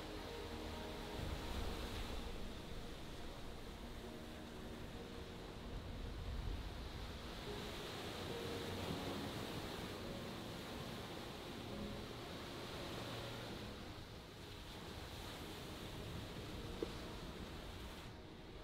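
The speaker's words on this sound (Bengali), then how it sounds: "বন্ধুরা দেখেন কি গর্জন সমুদ্রে" Sea waves roar along the Sri Lanka coast in a continuous broadband wash, mixed with wind buffeting, steady and fairly quiet with no voices.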